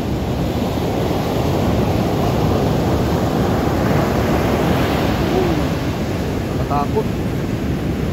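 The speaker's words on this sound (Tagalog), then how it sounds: "Grabe yung lakas talaga ng alon dito" Strong, heavy ocean surf pounds the beach at Pawikan in Morong, Bataan, a loud continuous roar with wind buffeting the microphone, and a voice briefly speaks over it.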